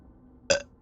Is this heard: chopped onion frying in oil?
no